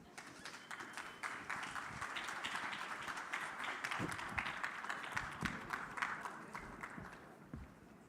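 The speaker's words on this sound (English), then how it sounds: "big applause to receive the speakers" Faint applause from a tech conference audience in Canada, a steady patter of many hands clapping at a distance in a large room, swelling slightly and then tapering off.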